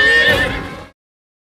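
A horse gives a loud, close whinny with a rush of hoof movement as it bolts toward a canyon, cutting off abruptly into silence.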